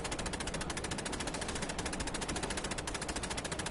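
Rapid sustained machine gun fire from an enemy gunner in Assassin's Creed Chronicles: Russia on PS4, a dense unbroken stream of sharp shots, loud and close, with no talking.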